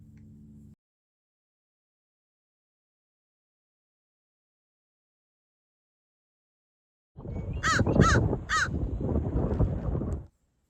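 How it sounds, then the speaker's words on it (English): A crow caws several times in quick succession, loud and close, after a long stretch of silence with a short low rumble at the start. "Now a crow came out."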